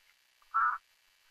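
A single short nasal quack from a duck being fed melon beside the water, clear and fairly close against near silence.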